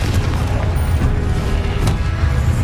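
Confringo explosive spell blasts in the video game Hogwarts Legacy, heard as a dense, continuous low rumble of booms and impacts with a few sharper cracks, loud and sustained throughout.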